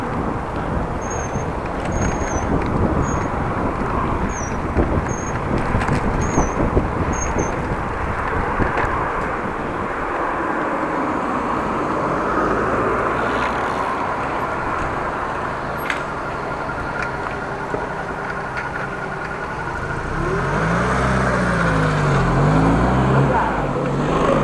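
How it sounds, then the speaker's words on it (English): Road traffic in a built-up area with shops and buildings, a steady broadband rumble of passing cars with a louder vehicle approaching near the end, heard while cycling. "back in the build-up area with shops, cars and buildings and other traffic"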